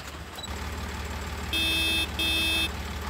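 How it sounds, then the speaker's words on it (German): Two long, steady horn blasts from an IHC 33 Series oldtimer tractor mod in Farming Simulator 19, each lasting about half a second with a short gap between, sounding loud over a constant low engine drone. "Ah, Hupe."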